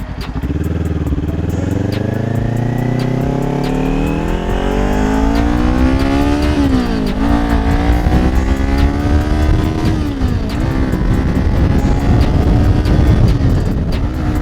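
A motorcycle engine revs up loud and close through rising pitches as the rider shifts gears, the note climbing, dropping at each shift, then pulling on with a rough, steady roar.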